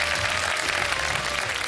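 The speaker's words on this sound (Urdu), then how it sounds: "بہت ساری تالیاں بجا دیجیے ان کے لیے" A studio audience on a televised Iftar show breaks into applause, a dense, steady burst of many hands clapping, loud and continuous throughout the short stretch.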